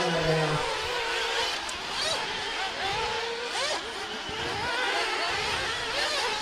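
Several 1:8 scale 40+ class RC buggies racing around a dirt track, their high engine whines rising and falling and overlapping as the cars pass. A race announcer talks over the engine noise.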